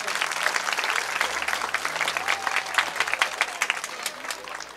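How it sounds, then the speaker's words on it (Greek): Sustained audience applause at a village festival cultural event, dense clapping from a crowd lasting throughout, steady and fairly loud with no talk. "θέλω ένα ζεστό χειροκρότημα για τη διοίκηση"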